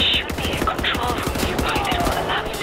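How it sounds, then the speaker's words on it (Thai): Rapid gunfire in the shooter Wolfenstein: The New Order, with dense, loud bursts of shots cracking in close succession throughout, mixed with other game noise. "ยิงยิงยิงยิง"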